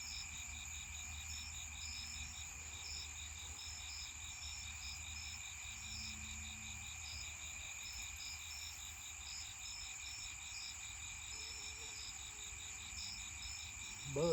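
Crickets and other insects trill steadily outdoors at night beside a fishing spot, a dense, continuous pulsing chorus at moderate distance that stays even throughout, with no talking.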